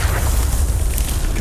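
A Confringo blast from Hogwarts Legacy, a loud, dense explosive boom with a heavy low rumble that fills the short moment at full strength.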